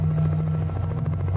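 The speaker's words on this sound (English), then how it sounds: "The chopper was close now" A helicopter close overhead, its low, steady rotor thrum and engine drone filling the whole stretch loudly and continuously with no voices.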